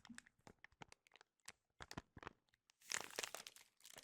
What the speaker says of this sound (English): This side is all paper, so it's very paper, crinkly sound.